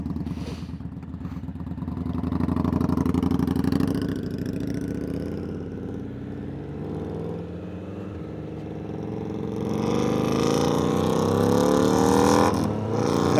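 A Triumph Triple motorcycle engine runs steadily nearby, a throaty idle with a slight rise in pitch and loudness toward the end, with no voices.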